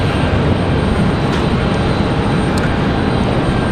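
A Republic Airways regional jet departs Raleigh-Durham International Airport bound for Chicago, its engines a loud, steady, broadband jet roar that holds level throughout with no talking.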